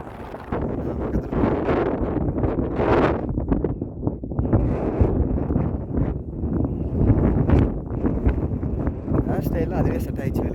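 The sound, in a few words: wind on a mountain hill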